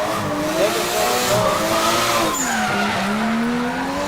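A drift car sliding through a corner at a drift series event, its tires squealing loudly and continuously over a revving engine whose pitch dips and climbs as the car holds its angle.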